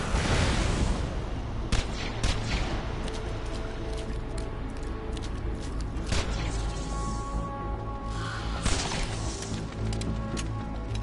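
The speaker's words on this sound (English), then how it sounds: "Grenade out!" Grenade explosions and heavy gunfire in Borderlands 2 at Gluttony Gulch, a dense continuous barrage with several sharp loud blasts standing out, no talking.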